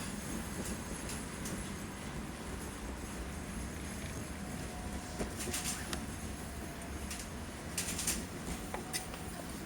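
A London tram on the Beckenham Junction to Wimbledon route, rolling along with a continuous low rumble, light rattling and a faint squeal from the wheels, heard from inside.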